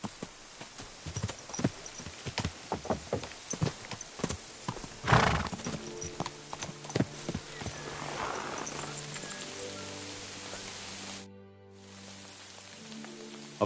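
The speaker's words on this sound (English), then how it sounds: "I've got a horse." A horse in the medieval game Kingdom Come: Deliverance II, with rhythmic clip-clop hooves, a loud neigh partway through, then a long whinny-like tonal cry fading out over a rainy background.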